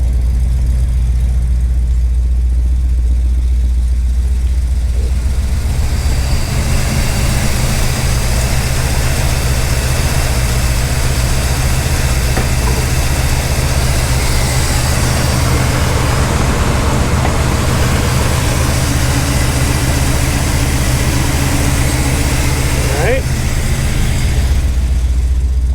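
A 1969 Dodge Coronet 500 idles after sitting unused, running smoky, its low steady engine rumble close and continuous for the whole stretch with no talk over it.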